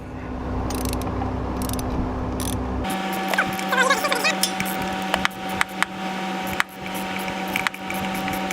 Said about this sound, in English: grabbed my 12mm socket, a 3/8 drive U-joint, and an extension, and that should allow us to get in there